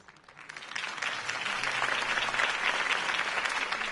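Crowd applause in the Batman Telltale Series game after a Harvey Dent campaign speech, swelling in from quiet and holding as steady, moderately loud clapping.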